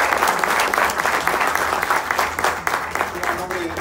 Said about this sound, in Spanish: Les pido por favor que les demos un fuerte aplauso.